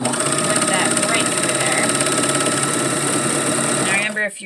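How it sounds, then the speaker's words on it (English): An overlock sewing machine runs steadily at high speed, whirring through a seam on a girls' peasant dress, then slows and stops near the end. A voice talks faintly underneath. "if you're sewing this with a regular sewing machine, not an overlock"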